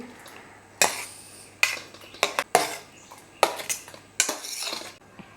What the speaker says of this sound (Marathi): आता यानंतर आपल्याला हे टरबुजाचे छोटे छोटे तुकडे कट केलेले होते ते टाकून घ्यायचे त्याच्यामध्ये